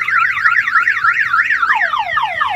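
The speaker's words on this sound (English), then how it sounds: "the alarm will trip and fire off" A Clifford car alarm on a Jeep Wrangler blares loudly and continuously, its siren tone warbling rapidly up and down, then shifting into faster descending chirps near the end.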